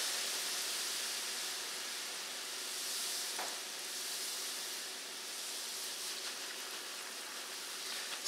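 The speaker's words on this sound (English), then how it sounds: "Now I'm gonna quickly re-dip and into the oil." Rosette (buñuelo) batter frying in hot oil, a steady, even sizzle that carries on without a break at moderate loudness.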